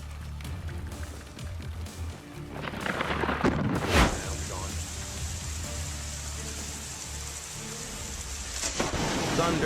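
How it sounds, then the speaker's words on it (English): Heavy rain hammers steadily on surfaces near a house during a thunderstorm, and a close, loud thunderclap cracks out partway through before the downpour rolls on. Faint voices are heard under the rain. "Thunder just struck right next to the house."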